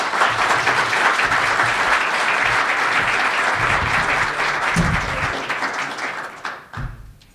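Conference audience in Detroit applauding to welcome a company chairman and CEO to the stage, dense sustained clapping that thins out and fades over the final seconds.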